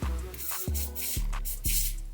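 Hair spray hisses onto wig lace in three or four short, close bursts, evenly spaced, over a low background hum.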